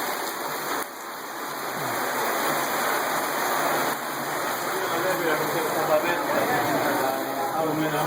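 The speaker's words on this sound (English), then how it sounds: "It's really raining on this tourist day." Steady rain falling on a street in Tallinn, Estonia, a broad continuous hiss of drops on pavement, close and even throughout, with faint voices in the background.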